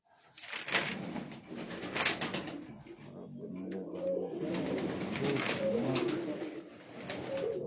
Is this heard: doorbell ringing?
no